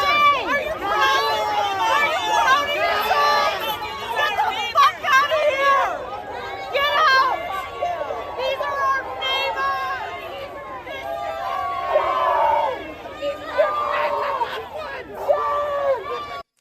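A crowd of protesters at a blocking action, many voices shouting and chanting together in a loud, continuous babble with occasional rising yells.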